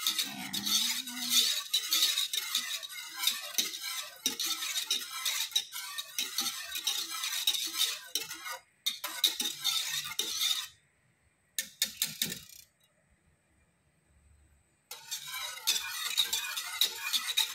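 A spoon scrapes and stirs rhythmically in a boiling pot of caramel for jelly flan, with a few brief pauses between bursts of stirring.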